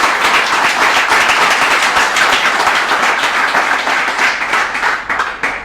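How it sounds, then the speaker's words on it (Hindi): Congregation in a Sohar, Oman church breaking into loud, sustained applause, dense clapping filling the space steadily before tapering slightly at the end. "अरे खुदावंद के लिए जोरदार तालियां।"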